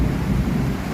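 Deep thunder rumbles through a heavy storm with rain, a loud continuous roll filling the brief moment with no voices.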